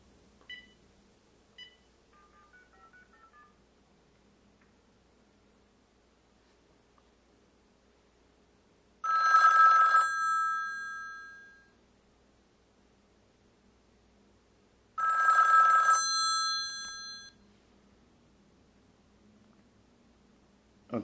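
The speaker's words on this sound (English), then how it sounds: "allows you to silence the incoming call ringtone by turning the phone over onto" An incoming-call ringtone on an HTC Touch Pro 2 phone plays in two short bright electronic bursts separated by several seconds of quiet, with a few faint clicks and beeps before them.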